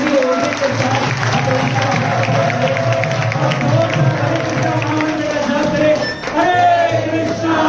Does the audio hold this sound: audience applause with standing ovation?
yes